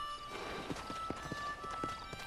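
Horse hooves clip-clop at a steady trot in the Western video game Red Dead Redemption, as a race starts in a small frontier town; the rhythmic hoofbeats are close and clear with no talking.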